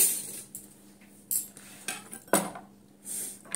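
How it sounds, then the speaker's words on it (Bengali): A knife scrapes and clinks against a metal plate while food is cut in a home kitchen, with several sharp metallic taps over a low steady hum, close up, no speech. "এই থালাতেই কাটছি, ঠিক আছে।"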